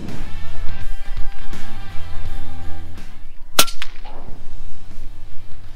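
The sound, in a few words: FX Panthera air rifle shooting H&N Barracuda pellet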